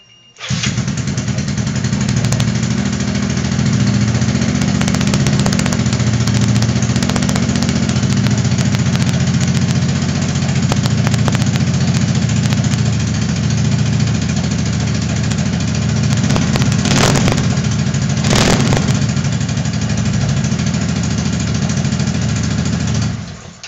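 A small scooter engine starts and then idles steadily for a long stretch, close and even, with a couple of brief clicks near the end.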